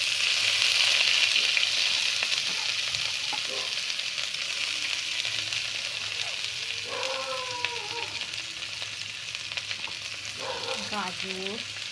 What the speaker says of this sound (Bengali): কড়াইয়ে তেল দিয়ে ওর মধ্যে ছেড়ে দিয়েছিলাম বাঁধাকপি